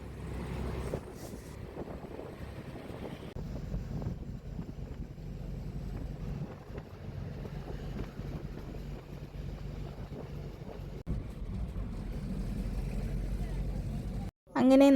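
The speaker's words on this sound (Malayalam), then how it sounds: "അപ്പം നമ്മളിങ്ങനെ ബസ്സിന് പോയിക്കൊണ്ടിരിക്കുകയാണ് കേട്ടോ" Inside a moving bus on a road trip toward Athirappilly, a continuous low engine and road rumble mixes with wind buffeting, steady throughout before cutting off briefly near the end.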